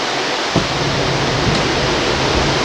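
Steady roar of rain and wind during Hurricane Isabel outside a house, a dense unbroken wash of noise at close range with a couple of brief knocks, no voices.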